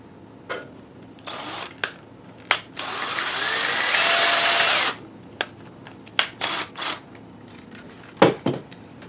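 A power drill drives a screw while mounting a DIY bait bucket, a steady whirring run of a few seconds, close and loud, framed by sharp clicks and handling knocks.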